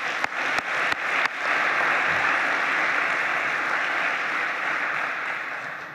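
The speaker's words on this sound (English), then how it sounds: "So if you could please join me with a round of applause" After a few isolated claps, a symposium audience launches into sustained, dense applause that holds steadily for several seconds before tapering slightly.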